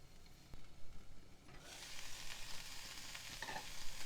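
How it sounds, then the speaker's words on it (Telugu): Cauliflower sizzles and fries steadily in a covered pan, a continuous close hiss that swells louder after the first second and a half, with no one talking. "మూత పెట్టి ఒక 5 నిమిషాలు చక్కగా వేగనివ్వాలి కాలీఫ్లవర్ని."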